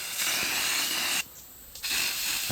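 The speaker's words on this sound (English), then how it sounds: "I'm going to spray it" Ambush scent spray hisses onto small pine saplings outdoors in two steady, close bursts, separated by a short pause.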